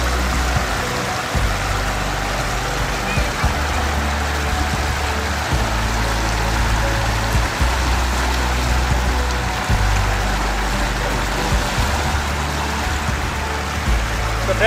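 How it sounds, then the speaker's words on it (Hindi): Clean water flowing steadily out at a village beauty spot, a continuous broadband rush like a stream or pouring tap, close and even throughout with a low rumbling undertone. "ऐसे ही ये पानी निकलता रहता है, यहाँ से आता रहता है साफ पानी"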